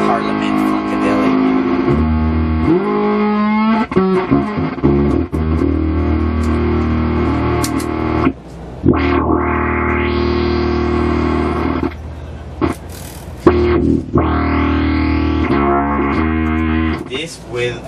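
A loud, distorted bass guitar tone through a Chunk Systems WAR Band synth effects pedal plays with synth-like swelling and sweeping effects, shifting notes and pitch glides, and brief breaks between phrases.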